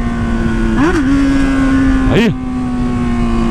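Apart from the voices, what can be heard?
Hornet motorcycle engine sound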